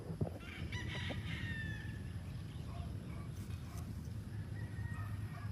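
Chickens and a rooster on a big Philippine chicken farm at feeding time, with steady clucking, a rooster's crow and a dense flock murmur close by, joined by faint background voices.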